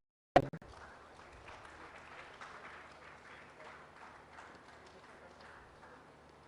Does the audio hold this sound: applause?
yes